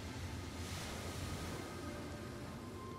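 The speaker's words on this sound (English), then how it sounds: "it's very calming with the atmospheric sounds of the ocean" Ocean waves wash steadily as an atmospheric bed in a calm, breezy symphonic metal outro, a continuous broadband surf hiss with a faint wind rumble and no voices.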